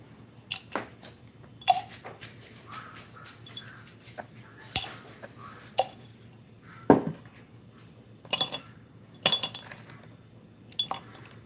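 Small HO scale diesel locomotive parts and gears dropped into a container of light oil cleaner, giving scattered close metallic clinks and clatters at irregular intervals over a quiet background.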